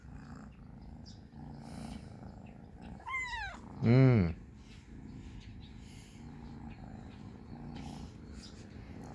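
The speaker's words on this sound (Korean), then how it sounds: "엄청 골골거리네 골골골골골골골 골골골골골골" A cat purrs softly in a low, rhythmic rumble close to the microphone, broken by a couple of rising meows near the middle, while a person murmurs briefly.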